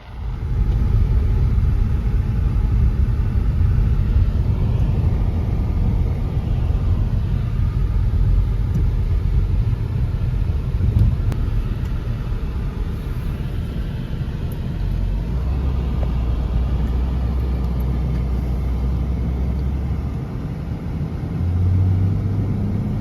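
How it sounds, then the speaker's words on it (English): A BMW 530 six-cylinder diesel car drives along a road, a steady, loud engine rumble and road noise that holds throughout with a slight rise in revs toward the end. "He's driving my BMW 530 diesel 6-cylinder."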